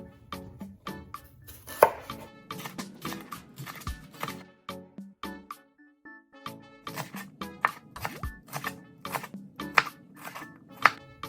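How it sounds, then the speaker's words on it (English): Knife chopping a green bell pepper on a cutting board, quick irregular taps in bursts with brief pauses, close and fairly crisp, no speech. "So now we're gonna chop the green pepper."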